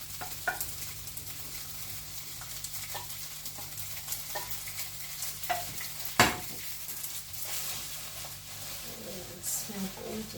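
Pad Thai noodles with prawns are stir-fried as sauce goes into the pan, a constant sizzle broken by scraping stirs and one sharp utensil clank, with a voice talking faintly at times.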